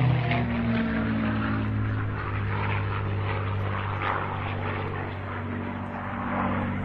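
A propeller airplane flying an aerobatic loop at an air show drones loudly and steadily, its engine hum holding throughout with no talk.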